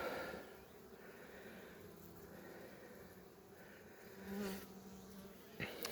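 Honeybees buzz steadily around a small nucleus hive outdoors, a dense continuous drone with brief closer passes as individual bees fly near.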